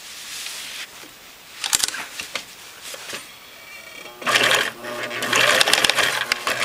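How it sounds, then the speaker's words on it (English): A sewing machine stitches the top of an elastic casing with 100% polyester thread, its needle running in short bursts, then a longer, louder steady run close by. "now I'm actually going to start stitching that top part of the casing"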